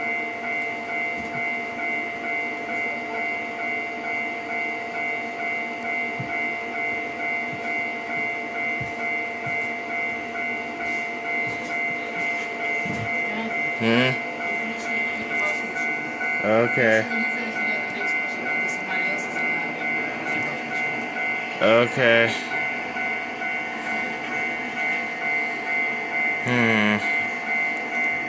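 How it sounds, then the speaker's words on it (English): Simulated trains running on a railway in the Trainz 12 game, a steady rolling drone with repeated rhythmic clatter bursts as cars pass a crossing, while a voice speaks briefly over it. "the next train that goes to this crossing is going to hit him"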